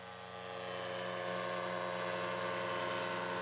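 Paramotor engine drones steadily at a gathering of pilots, a constant propeller buzz with rich harmonic whine that swells slightly at the start and then holds at an even level, with no voices.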